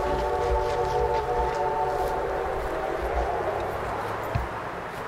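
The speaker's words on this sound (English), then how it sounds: "I figured there was a train coming." A Reading and Northern steam train approaches at a bridge, a steady low rumble with a sustained tonal whistle held for a few seconds, heard from a moderate distance with a faint thump near the end.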